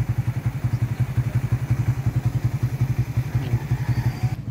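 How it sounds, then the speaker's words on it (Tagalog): A Raider 150 motorcycle engine runs at a steady idle nearby, its rapid, even low-pitched pulsing continuing throughout with a slight clatter on top. "Yan lang po ang aming motor."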